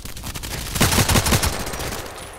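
Rapid bursts of automatic gunfire from the online shooter game Contract Wars, several quick loud shots clustered in the middle of the clip over a busy game background, with no talking.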